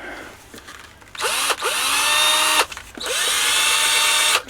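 Cheap Extreme-brand cordless drill, picked up as scrap, whirring up to speed in two long close, steady runs, each lasting over a second, with brief pauses and spin-downs in between.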